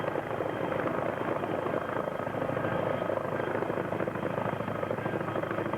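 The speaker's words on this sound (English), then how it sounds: "the helicopter lifts straight up until the rope and personnel are clear of obstruction" A military helicopter lifting a reconnaissance team on a rope at Camp Lejeune, North Carolina, in 1992 makes a continuous, moderately distant rotor and engine roar that holds steady throughout.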